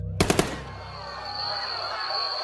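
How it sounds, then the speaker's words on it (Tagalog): Rapid burst of Armalite rifle fire: three quick sharp shots close together, followed by a long ringing, echoing tail with steady background noise. "makarinig kami ng sunod-sunod na putok ng Armalite."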